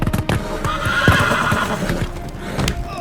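Horses of a charging British cavalry unit neigh and whinny over a steady clatter of hoofbeats amid a Revolutionary War battle at Charlotte, loud and close, several animals together with no talk.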